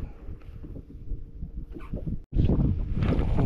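Wind blows and buffets the microphone on a small fishing boat at sea during ultralight fishing for grouper, a steady, loud, rumbling roar with one brief dropout, then gusting stronger.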